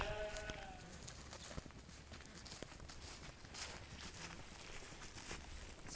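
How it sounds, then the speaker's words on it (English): Sheep bleat outdoors on the grounds of a high school, faint and somewhat distant, with light footsteps and open-air background noise running underneath. "The sheep are out at the high school."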